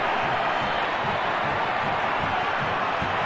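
A large stadium crowd at a Minnesota United vs. Sporting Kansas City soccer match roars in a loud, continuous wash of cheering with no break.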